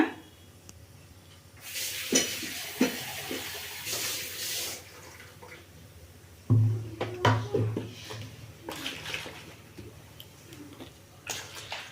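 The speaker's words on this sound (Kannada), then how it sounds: "ಈಗ ಇದಕ್ಕೆ ಎಷ್ಟು ಬೇಕಷ್ಟು ನೀರು ಹಾಕ್ಕೊಳ್ಳೋಣ" Water is poured into a pot of horse gram and greens saaru in bursts, splashing and gurgling, with faint clinks of cookware between pours.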